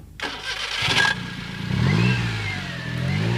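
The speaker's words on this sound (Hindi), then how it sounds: "इस तरह से ये बाइक स्टार्ट हो गया है" Custom-built motorcycle from Punjab fitted with a Maruti 800 car engine, started with a push button: a loud starter cranks for about a second, then the engine catches and settles into a steady, rumbling idle, close up with no talking.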